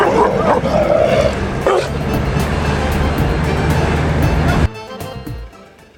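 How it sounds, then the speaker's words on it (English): Wild dogs barking and yipping outdoors at mid distance, several sharp calls within a noisy, rumbling background that cuts out abruptly near the end. "there's some wild dogs around here"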